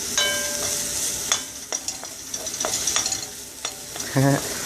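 Onions frying in a pan for Caribbean-style lamb curry, a loud close sizzle with brisk scraping and clinking as they are stirred, ending in a short ringing metallic clatter.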